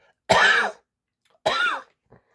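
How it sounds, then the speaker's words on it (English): Two short, raspy coughs, close and clear, separated by about a second of silence, with a faint throat noise trailing after. "But I'm getting annoying cough"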